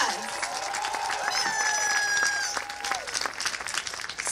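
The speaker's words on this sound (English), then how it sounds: "Just give Gateway to College a round of applause." A commencement crowd applauds Gateway to College at a graduation ceremony, dense steady clapping with scattered cheers and voices, fading toward the end.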